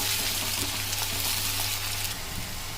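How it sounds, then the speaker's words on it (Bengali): Onion frying in a pan, a loud, dense, continuous sizzle close by that eases slightly near the end. "পেঁয়াজটা এখন ভেজে নেব মাছ বানানোর জন্য"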